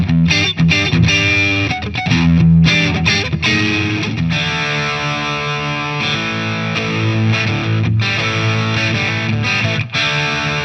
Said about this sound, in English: that's almost enough distortion on its own just to carry you